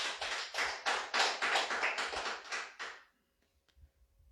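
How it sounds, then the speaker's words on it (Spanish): A church congregation claps loudly in a rhythmic burst of roughly a dozen beats, then stops abruptly, leaving near silence with a few faint knocks. "Dele fuerte aplauso, hermano"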